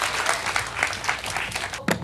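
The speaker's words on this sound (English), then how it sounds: "let's give her a round of applause" Audience applause at a children's Storybook Theatre performance of The Princess and the Frog, a dense, steady burst of clapping from a live crowd lasting about two seconds.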